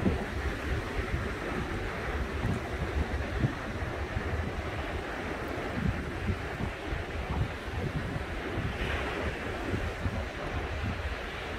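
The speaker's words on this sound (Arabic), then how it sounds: "البحر هايج" A rough sea off Al Hoceima, Morocco: waves crash steadily under constant gusting wind buffeting the microphone, a continuous loud roar with no clear pauses.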